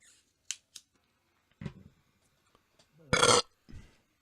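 A single loud, close burp bursts out after a few short clicks and scattered small noises, with a softer trailing sound just after it.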